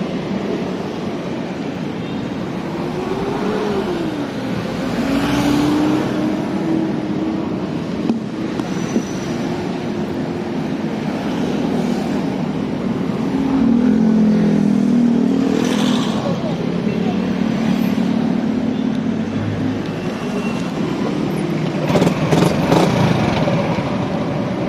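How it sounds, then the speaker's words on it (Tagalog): Heavy road traffic on EDSA in Manila, a steady wash of car and motorcycle engines idling and creeping along, with occasional nearer revs and horn-like tones over a constant rumble. "Ayan, traffic na. Kabilaan sa kabila, no? Traffic na masyado."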